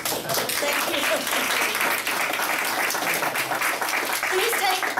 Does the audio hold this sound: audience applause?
yes